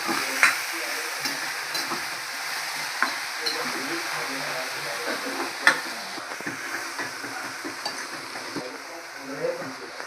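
Mushrooms stirred in a pan with a light sizzle underneath, a spoon scraping and tapping at irregular intervals, close and moderately quiet, with no one speaking.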